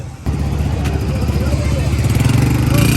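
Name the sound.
vehicle engine running as they set off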